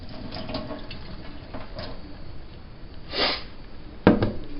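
Coffee poured out of a full cup from a Mr Coffee Keurig-style one-cup maker: a soft, steady liquid splash near the mic, swelling briefly toward the end, with a sharp clink as the cup is set down.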